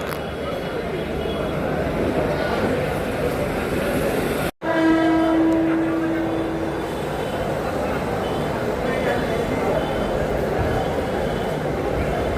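A Mumbai local train rolls along in a steady loud rumble, and a sharp horn blast sounds about midway, heard from inside a first class coach.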